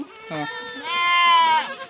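Goats bleating on a farm while the young kids suckle milk, a short stuttering bleat followed by a long wavering cry, close and loud, with a voice faintly in the background.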